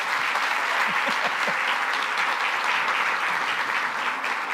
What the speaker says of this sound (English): So, round of applause for Eric.